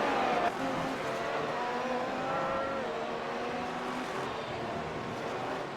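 Formula 1 race cars running side by side through Curva Grande at Monza in iRacing, a continuous high engine whine with shifting pitch from two close cars, steady and loud without talk.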